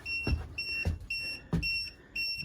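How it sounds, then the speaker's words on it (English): A bus's tire pressure alarm beeps in a steady repeating pattern, short electronic tones sounding about every half second or so, with soft thumps underneath. "Tire alarm beeping."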